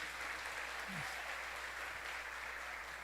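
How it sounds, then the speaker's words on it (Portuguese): A church congregation applauds to praise the Lord during a sermon, a faint, even wash of clapping heard from a distance, with a brief low voice sound partway through. "Dê um aplauso ao Senhor, Ele é digno."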